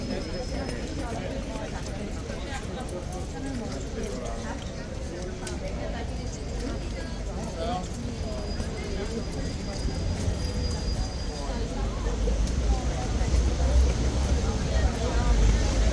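Hooves of a King's Guard horse clip-clop in a steady rhythm under nearby tourist chatter, growing slightly louder toward the end.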